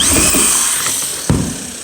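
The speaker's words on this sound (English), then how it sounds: "The drill head clutch on the screw gun disengaged" Screw gun with its clutch disengaging while driving screws into sheetrock on metal studs, a loud close steady whine that slowly fades, then a sharp click and a brief rising buzz.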